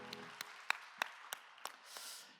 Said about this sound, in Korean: 우리 박수로 서로의 신앙과 삶을 축복합시다.